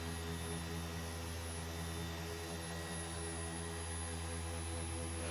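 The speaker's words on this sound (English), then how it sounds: "One drawback, one little negative with the polisher, that's the sound it makes. Sounds like a tiny jet engine." A small Wizards Mystic Cut polisher cutting with compound whirs continuously at a high, steady pitch, a loud jet-like whine with no pauses.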